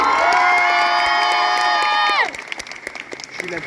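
An audience at the Japan Expo 2024 Amazing Cosplay Show cheers and shouts, with shrill sustained whistles or screams over the crowd noise. These cut off after about two seconds, leaving scattered claps and cheers.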